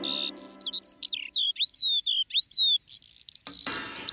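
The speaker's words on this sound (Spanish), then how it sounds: "Si hago silencio yo puedo escuchar un pájaro cerca trinar." A bird sings nearby in a children's song, with bright, quick chirps and short whistled phrases in a steady stream. A burst of broadband noise follows near the end.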